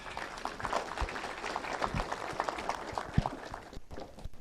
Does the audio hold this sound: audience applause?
yes